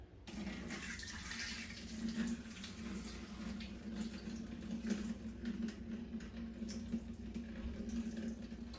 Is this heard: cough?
no